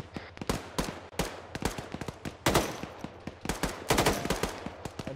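Rapid gunfire from an Arma 3 military training battle drill, with irregular bursts of automatic fire and single shots cracking close and loud, some overlapping into heavier volleys, and no talking over it.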